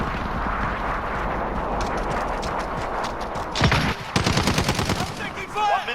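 Gunfire sounds in the video game Modern Warfare during an online multiplayer match with an MP5K build, heard as rapid automatic bursts and sharp cracks over a busy battlefield din. Voices talk through the action.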